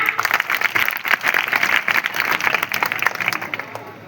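An audience applauds for a comedic politician character, a burst of dense clapping that swells and flutters unevenly for about four seconds before thinning out.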